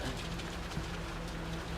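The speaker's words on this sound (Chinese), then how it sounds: "天上下雨了！" Steady rain falling at sea, a dense continuous patter and hiss with a low rumbling undertone, close and even throughout with no voices.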